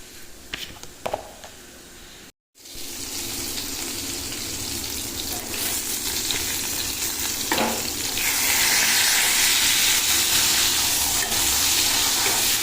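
Fish sizzling and frying in hot oil, a steady loud crackle that swells louder in the latter half, with a brief dropout near the start and occasional clinks of stirring.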